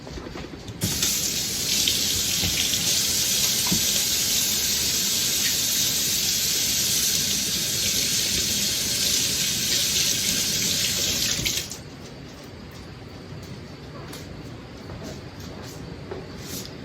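Tap water running at a sink for hand washing, a loud steady splashing rush for about eleven seconds that then drops to a quieter trickle with light splashes, close by and without talk.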